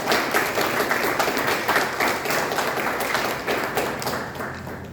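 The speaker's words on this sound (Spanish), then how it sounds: "pido un fuerte aplauso para Isaac Núñez" Audience applause at a book presentation for a collection of stories, dense and steady clapping that fills the room for the full stretch at fairly even loudness, with no voices rising above it.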